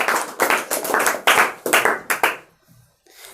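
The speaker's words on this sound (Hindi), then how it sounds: "ताली बजाइए।" A classroom of students claps hands together in a quick series of about eight sharp, loud, rhythmic claps that then stop, leaving a quiet gap with faint room sound.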